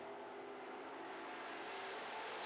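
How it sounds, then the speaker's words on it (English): Super stock race cars wail around a dirt track during a feature race, a steady, distant roar of several engines blending together with no gaps, swelling slightly toward the end. "And the 5X of Rob Gordon are wailing away back there"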